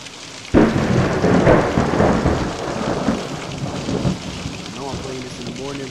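Thunder rumbles in with a sudden loud onset and rolls on under steady heavy rain in the horror game The Nun Massacre, lasting throughout with a faint voice near the end.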